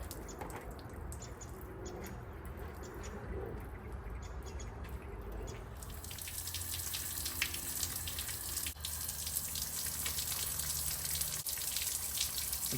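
Water flushing out through holes in a boat deck during an epoxy deck build, a steady soft splashing and trickling stream that grows fuller and louder partway through, heard alone.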